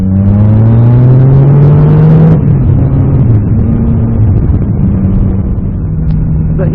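A Yamaha MT-09 Tracer motorbike engine revs loudly and close, its pitch climbing steadily before dropping back to a throaty, continuous drone while riding.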